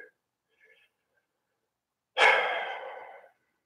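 A single slow, deep exhale during a guided yoga session, heard alone and close after near silence, fading out over about a second.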